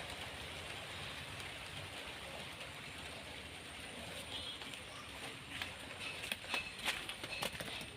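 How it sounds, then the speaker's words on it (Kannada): A soft, steady patter of light rain over a broad hiss, with a few sharper drips and taps near the end. "ಮಳೆ ಬರಲಿಕ್ಕೆ ಶುರು ಆಯಿತು ಸ್ವಲ್ಪ ಸ್ವಲ್ಪ ಮಳೆ ಬರ್ತಾ ಉಂಟು"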